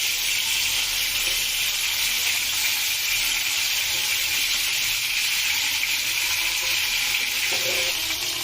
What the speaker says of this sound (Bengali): এ পর্যায়ে আমি মাছগুলো ভেজে নিব।